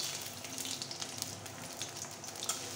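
Chopped onions fry in a pan with a dense, steady sizzle and crackle, close and moderately loud. No one speaks over it.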